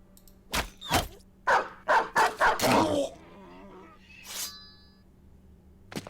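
A dog in the video game Battle Brothers barks in a burst of six or seven loud, close barks over about two seconds, then a softer yip trails off, with a low steady hum of game ambience beneath.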